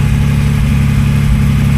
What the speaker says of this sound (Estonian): Laseme siin mootoril natuke käia, õlid soojaks.